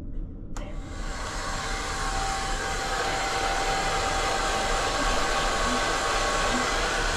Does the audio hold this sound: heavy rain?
no